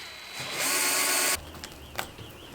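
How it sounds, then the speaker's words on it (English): A power drill with a 22mm circular hole cutter whines loudly for under a second while cutting a water outlet hole in a campervan water tank, then stops, followed by a few clicks and faint mechanical rattling. "the 22mm circular hole cutter, for our water outlet"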